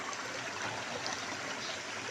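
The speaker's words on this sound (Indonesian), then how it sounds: "Ini dia posisi sungainya dan bebatuan." A river stream rushes over rocks in a hill forest in the Bukit Barisan range with a constant, even wash of water and no voices.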